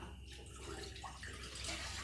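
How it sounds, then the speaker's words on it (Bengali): Water poured into a pan on a lit gas stove while making guava jelly, a steady, close splashing pour running the full couple of seconds without talk. "জলটাকে দিয়ে দেবো।"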